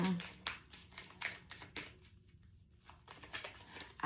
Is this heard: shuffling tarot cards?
yes